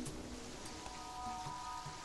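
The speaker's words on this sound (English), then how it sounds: "How long has it been raining in game?" Rain falls in Terraria as a faint, steady patter and hiss, soft and continuous, with light game tones drifting underneath.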